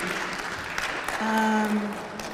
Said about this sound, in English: let's give another round of applause to Abdul Salam.